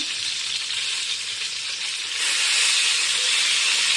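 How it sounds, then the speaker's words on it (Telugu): Stuffed brinjal, Andhra-style, frying in oil in a pan: a steady close sizzle with dense crackling hiss that swells louder partway through, no voices. "చూసారా ఎంత బాగా ఫ్రై అవుతుందో"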